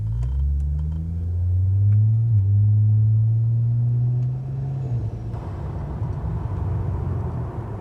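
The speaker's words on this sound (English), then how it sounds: "this PULSAR turbo, when it comes on, it comes on" G6ET Barra engine fitted with a Pulsar G40 turbo rated near 1150 hp, pulling hard with a loud deep engine roar that climbs in pitch under acceleration, then drops to a lower rumble; heard close from inside, no speech.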